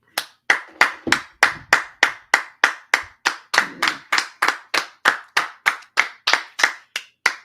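Sharp hand claps in a steady, even rhythm, roughly three per second, loud and close, with no talking over them.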